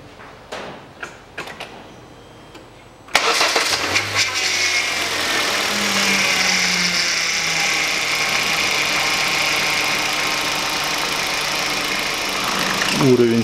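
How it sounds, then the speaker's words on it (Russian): A 2012 Hyundai Solaris 1.4 engine cranks and catches after a few light clicks, then settles into a steady, close idle that runs on for several seconds while a person speaks. "Запускаю двигатель."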